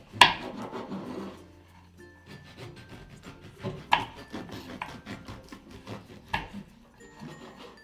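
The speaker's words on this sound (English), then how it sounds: "I've just cut the slice of bread" A knife saws through a slice of crusty Portuguese bread with repeated rasping, crunchy strokes, close and fairly quiet, mixed with occasional knocks on the board.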